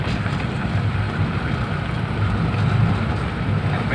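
A Yamaha Taruna 99 motorcycle engine, freshly tuned at the carburetor, roars steadily under throttle, a loud, dense rumble that holds for the whole stretch with a slight swell near the end.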